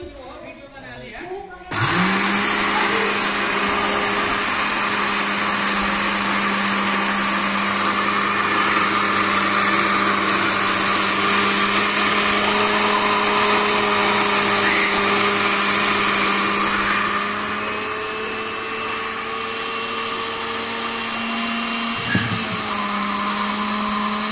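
Electric grinder machine spinning up abruptly and running at a steady high whine while grinding roasted cumin seeds, loud and continuous, with the pitch dropping slightly near the end.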